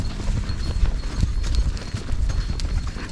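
A rented horse walks on the sandy volcanic ground near Mount Bromo, its hooves clip-clopping in a steady, close, uneven rhythm over a continuous rumbling background.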